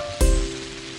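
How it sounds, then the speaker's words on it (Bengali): Steady rain pours down during several days of wet weather, opening with a sudden splashing burst and then settling into a dense, close hiss. "যা বৃষ্টি হচ্ছে কদিন ধরে,"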